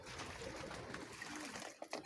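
Soft cooing of a racing pigeon returned from a flight sounds faintly against a hissing, breezy background, with a few light knocks near the end.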